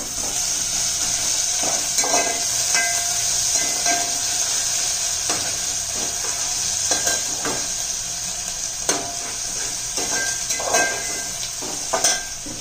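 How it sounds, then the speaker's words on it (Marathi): Ginger garlic paste sizzles in a pan while pav bhaji is cooked, a steady close hiss of frying with scattered scraping and stirring clicks against the pan throughout, and no voices. "आलं आणि लसूण पेस्ट घालू"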